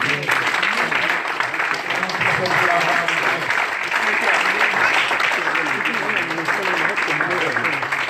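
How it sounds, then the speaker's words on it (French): A church congregation claps and cheers together in praise, a dense, steady wash of applause with mixed voices that holds at full strength from start to finish. "Acclamons pour la gloire de Dieu."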